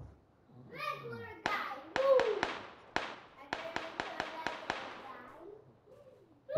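PUBG gunfire crackles as sharp, evenly spaced shots in two bursts, mid-distance and fairly crisp, while a voice talks over the first part.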